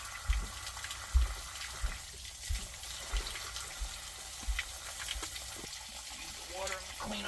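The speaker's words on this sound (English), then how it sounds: "Rinse all the mud off of them." Water runs over muddy tools being rinsed off outdoors beside a well pump setup, a faint steady splashing with scattered low thumps and knocks as the tools are handled.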